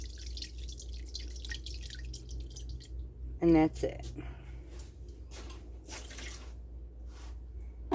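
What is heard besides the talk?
cheese being rinsed under cool running tap water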